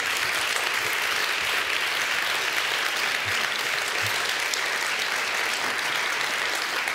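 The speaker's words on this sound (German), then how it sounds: "Ein kleiner Applaus wäre total super." Steady, dense audience applause fills the room at a film festival screening in Bremen, a continuous wash of many hands clapping at even volume with no talking over it.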